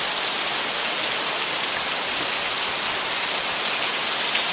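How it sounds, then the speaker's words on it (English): Heavy rainstorm in Bradley, South Carolina, a dense, steady roar of rain pouring on surfaces, loud and unbroken throughout, with no voices. "It really, really rains."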